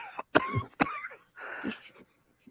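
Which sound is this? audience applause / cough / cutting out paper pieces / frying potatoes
cough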